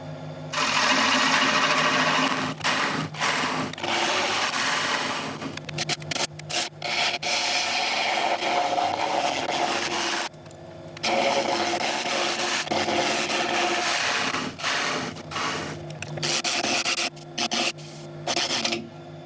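A wood lathe whirs continuously as a scraping tool grinds and rasps against spinning sequoia wood, with brief drops in the noise where the tool lifts away.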